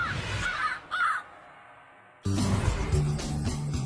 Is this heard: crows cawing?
yes